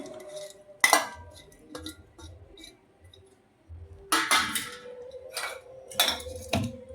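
Spoon and metal bowl clank and scrape in irregular bursts while fried amla pieces are stirred for pickle, several sharp clinks separated by quieter pauses.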